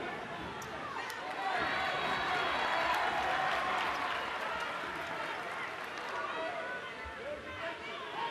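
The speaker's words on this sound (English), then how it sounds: "you see a very spirited crowd for those in attendance at Exact Tech Arena" A spirited crowd fills a women's college basketball arena, the Exactech Arena at Florida, with a sustained wash of cheering and clapping that swells in the middle and eases toward the end, with babble mixed in.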